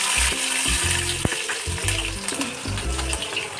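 Steady sizzling and crackling of asafoetida, mustard seeds and green chilies frying in hot oil in a kadai for a dhokla tempering, loud and close, with a few soft clinks over the hiss.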